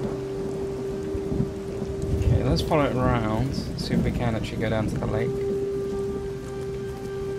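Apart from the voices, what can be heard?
storm with rain and thunder, from video game Everybody's Gone to the Rapture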